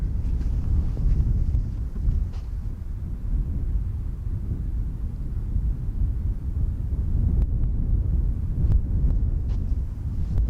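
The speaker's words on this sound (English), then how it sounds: "on this windy, drizzly Saturday morning." Steady, heavy wind roars and buffets throughout on a drizzly morning at Schiphol Airport, a dense low rumble with no voices.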